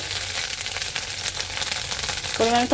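An egg fries in a pan for homemade chowmein, giving a steady close sizzle with a brief clatter of stirring near the end.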